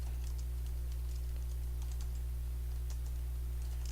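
Light typing on a computer keyboard during a recorded lecture: faint, irregular key clicks scattered over a steady electrical hum, with no speech.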